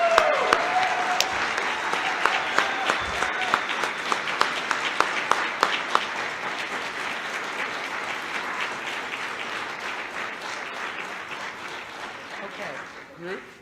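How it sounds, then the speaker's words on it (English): Sustained applause from an audience at a student employee of the year award ceremony fills the room, dense and steady clapping with a few sharper claps standing out, fading slightly toward the end. "Let's give them all a big round of applause."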